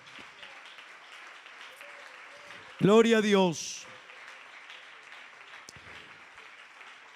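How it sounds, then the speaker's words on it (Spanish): A church congregation at a morning service applauds in praise of the Lord, a steady wash of clapping throughout with one voice ringing out loudly in a brief exclamation near the middle. "Dele un aplauso al Señor en esta mañana"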